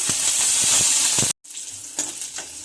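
Green chillies frying in a little hot oil make a loud, close sizzle that cuts out briefly, then returns as quieter spitting and crackling, with no voices.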